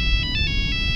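A phone rings in a horror video game, with rapid electronic trilling pulses repeating steadily and loud over a low rumbling ambience.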